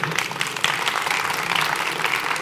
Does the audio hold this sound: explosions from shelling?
no